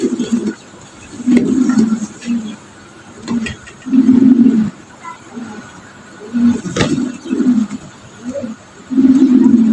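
Black Mondain pigeons in a loft, giving repeated low, throaty coos in short bursts at close range, with soft rustling between the calls.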